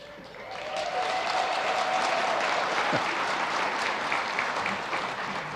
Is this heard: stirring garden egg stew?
no